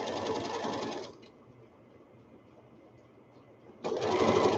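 A sewing machine stitches a kid's wrap-around towel, running loudly for about a second, pausing through a quieter stretch, then starting up again near the end.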